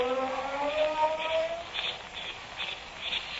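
A car engine sound effect in an old radio drama, a muffled rising whine that revs and then settles into a steady hum, with a few faint thumps.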